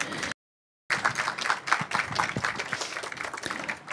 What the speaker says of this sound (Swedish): En applåd på det.